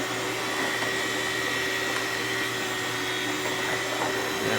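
A CUKAID electric food slicer runs steadily as it cuts through tomatoes, giving a continuous close motor whir with a constant hum and no break in pitch or loudness.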